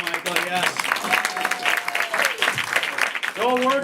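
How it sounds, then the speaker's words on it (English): Studio audience applause for a contestant on a game show, steady clapping that swells and fades under a host's voice over about four seconds. "Clap for Michael, everyone."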